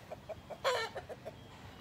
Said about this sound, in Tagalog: At saka ito naman yung mga manok ko dyan. Ito yung mga chicken.